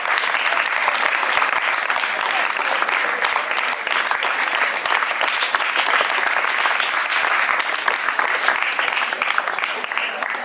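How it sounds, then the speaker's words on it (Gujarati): An audience at a school cultural program and puppet show applauds a guest being honored, with dense, sustained clapping that holds steady for the full ten seconds. "આપણે જોરદાર તાળીઓથી વધાવીશું."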